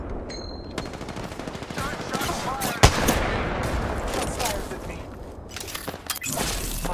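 Rapid bursts of automatic gunfire and single shots in a hectic Apex Legends battle royale firefight, loud and continuous across the scene, with a sharp impact near the middle and game effects layered in.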